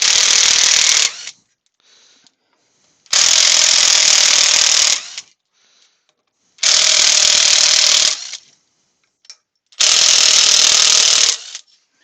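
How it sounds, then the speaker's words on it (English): A ratchet screwdriver clicks in four separate bursts, each about one to two seconds long, with short silences between them, while screws are removed from a woodturning faceplate. The clicking is close and loud, with no talk. "So just take these screws out at the end there."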